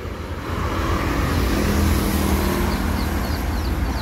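At a bus terminal, the Limbersa Wong Kito bus on the Bandung–Palembang route idles and rumbles with a steady engine drone, close and loud, while other traffic noise fills the background.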